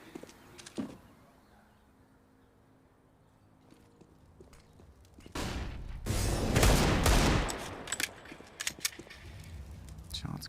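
Gunfire from Counter-Strike play on the Inferno map during a pro match, with Deagle and CZ pistols firing: sharp shot cracks and a dense burst of loud shooting midway, over crowd noise and commentary.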